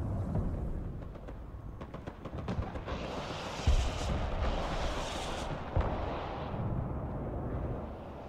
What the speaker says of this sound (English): I'm firing MLRS here